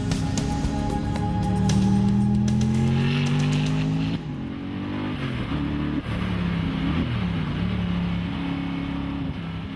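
An Apollo sports car engine revs hard and accelerates, a loud close roar with rising pitch that drops after a gear change and keeps pulling strongly, with no talk over it.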